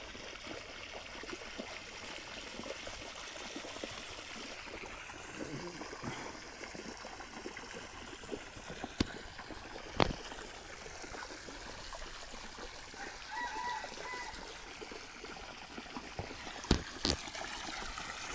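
Water gushes from a burst supply pipe, a constant low rushing and trickling flow at moderate distance, broken by a few sharp knocks and clicks.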